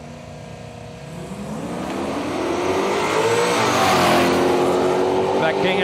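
Premier and Kingswood cars drag racing at Willowbank Raceway, engines swelling from a distant rumble into a loud revving roar as they accelerate, with a commentator's voice running over the noise.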